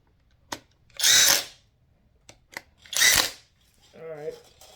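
Two loud, close bursts from a power drill running down parts on an LS 5.3 V8 engine build, separated by light clicks and handling noises, with a short voiced sound near the end.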